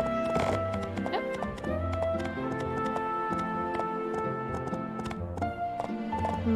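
A horse clip-clops in the video game My Time at Portia, with a quick, regular patter of hoofbeats and an occasional whinny over the game's musical background.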